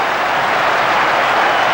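A football crowd at a Manchester United match in 1997 roars and applauds after Andy Cole opens the scoring, a loud, dense, continuous wall of noise with no talk over it.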